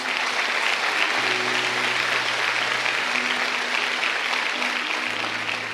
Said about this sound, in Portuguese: E pode aplaudir Jesus